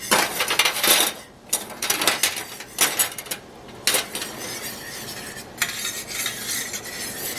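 A spoon stirs boiling triple citrus jelly in a pot, scraping and clinking against the metal in uneven strokes over a steady bubbling sizzle, close and fairly loud.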